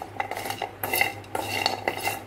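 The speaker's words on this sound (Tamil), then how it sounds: "இந்த மாதிரி நல்லா பரட்டி பரட்டி விட்ருங்க. நல்லா சுக்கு வந்து நல்லா வறுத்து எடுத்துடணும்." Dry ginger being stirred and roasted in a metal pan: repeated scraping and clinking of a spoon against the pan in uneven strokes, close and moderately loud, with no talk.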